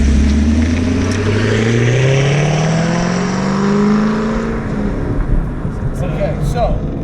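A 2017 Chevrolet Camaro SS 1LE with its LT1 V8 and six-speed manual accelerates hard, the loud engine note rising steadily in pitch through a gear before easing, close and dominant with occasional talk underneath.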